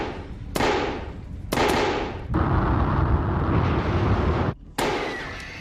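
Hot volcanic gases expanding and erupting in a series of sharp explosive blasts, three quick booms followed by a long rumbling roar and a final loud burst.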